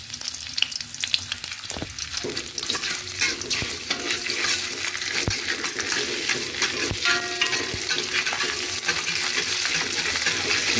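Ground ginger stir-fried in a pan with sautéed garlic for a chicken vegetable soup, a loud continuous oily sizzle with scraping stirring strokes and occasional clinks of a utensil against the pan, no voices.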